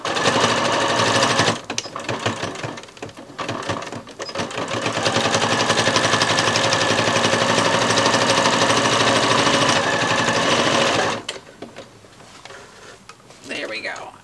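A sewing machine stitches fabric for a rice heating pad bag, running in loud rapid bursts, pausing briefly, then running steadily for several seconds before stopping and starting again near the end.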